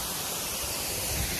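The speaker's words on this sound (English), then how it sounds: "But look how cool this waterfall is." A waterfall gives a steady, broad rush of falling water, even and unbroken for a short moment, with no voices over it.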